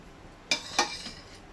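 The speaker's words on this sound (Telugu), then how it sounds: "ఇప్పుడు క్యారెట్ని కింద నుంచి పై వరకు భాగంలో బాగా తిప్పుకోవాలి." A spoon clinks twice against a pan while carrots are stirred, short near metallic taps over a quiet background, with a fainter third knock after.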